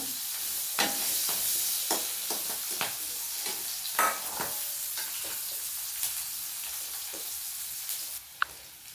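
Chopped onions and chilli with panch phoron fry in a pan, ahead of adding taro for a prawn curry: a steady hiss of hot oil punctuated by sharp stirring scrapes, ending with one sudden clack.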